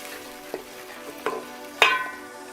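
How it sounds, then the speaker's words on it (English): Tomato puree being stirred into a fish stew frying in a pan, with a few soft scrapes and a sizzle growing louder toward the end. "So my tomato puree goes in. Give it a good stir."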